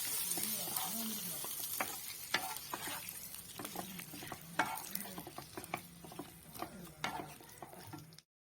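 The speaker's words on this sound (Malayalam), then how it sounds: "വെച്ചിട്ട് നമുക്കൊന്ന് ഇളക്കി" A spoon stirs a special chicken stew in a pot, soft scraping strokes and gentle knocks against the pot over a faint simmering sizzle, close and quiet, with no talking.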